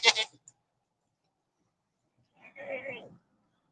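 A black, bearded female goat bleats twice close by: a short sharp cry, then after a silent pause a longer wavering bleat.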